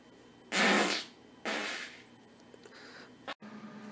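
Two loud, broad farts in a row, the first longer, followed by a fainter sputtering one and a brief sharp pop near the end, with no talking.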